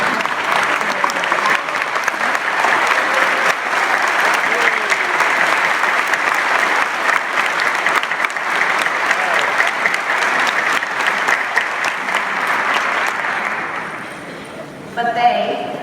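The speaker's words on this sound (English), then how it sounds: "would you please stand a moment and let us applaud you for the work you do?" A conference audience at a national charter school gathering applauds teachers, sustained loud clapping from a large crowd for about fourteen seconds before it tapers off near the end.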